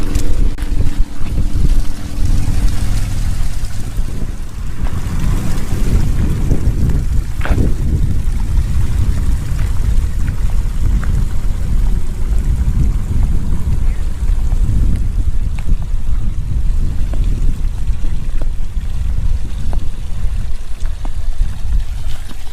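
A car driving along a roadside in Colorado, a heavy, constant low rumble of wind and road noise heard from inside. It stays loud and steady throughout, with no voices.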